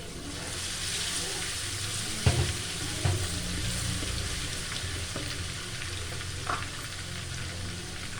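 Ginger garlic paste frying in ghee for a tadka, a soft steady sizzle with occasional stirring clinks and scrapes, fairly quiet and close.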